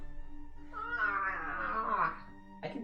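A pet cat lets out a drawn-out, wavering meow of about a second, followed by a short second call near the end, close and fairly loud with no talk over it.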